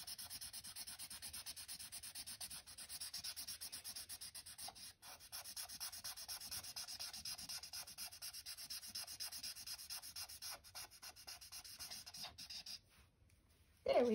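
A pencil colours in a stocking on a printed colouring page with continuous, close, even scratchy strokes, rubbing back and forth almost without pause, then breaks off briefly near the end.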